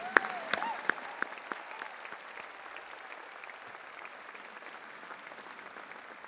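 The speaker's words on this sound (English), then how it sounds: "I think we need to give you another round of applause and say congratulations." Audience applause at a spring convocation ceremony for Faculty of Community Services graduates, a steady wash of clapping with a few sharper claps early on, gradually thinning and fading out.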